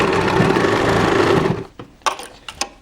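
A sewing machine runs steadily and loudly while stitching an inskirt, stopping abruptly partway through, after which only a few scattered clicks and handling knocks remain.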